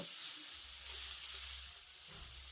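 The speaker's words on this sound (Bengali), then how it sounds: "এবার টমেটোটাকেও কিন্তু আমি সবজির সঙ্গে খুব ভালোভাবে নেড়ে চেড়ে মিশিয়ে নেব" Chopped vegetables and tomato sizzle and hiss steadily as they are stirred in a hot frying pan, a close, even frying sound with no talking.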